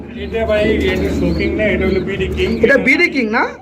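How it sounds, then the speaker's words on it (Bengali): A male pigeon coos in soft, repeated throaty bursts close by, with people talking in the background. "পিছনেরটা নর ডাকতেছে"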